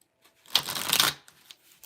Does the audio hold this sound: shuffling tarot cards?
yes